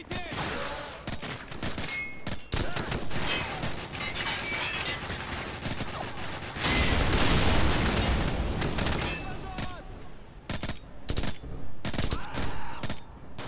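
Video game gunfire: dense rapid bursts and fusillades of shots crackle loudly through the whole stretch, with a heavier barrage in the middle and a voice speaking between volleys.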